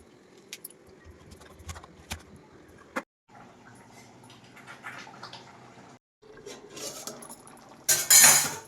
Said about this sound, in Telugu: తొక్క తీయకుండా కట్ చేసుకుందాం పెద్ద ముక్కలు